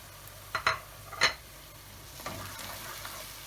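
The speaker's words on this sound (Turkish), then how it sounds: "Şöyle bunları güzelce içerisine ilave ediyoruz." A spoon scrapes and clinks against a pot in two quick bursts, followed by softer stirring of içli köfte filling with a faint sizzle.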